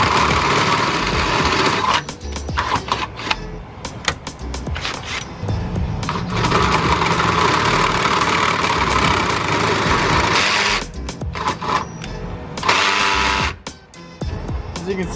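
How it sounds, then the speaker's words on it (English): A power drill whines in bursts, revving and stalling as it bores a hole while installing BC coilovers on a Nissan 350Z, with short pauses between runs and a voice speaking over it. "As you can see, my drill really sucks."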